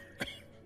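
A single short cough, close and abrupt, from an anime character, standing alone against a faint background hum.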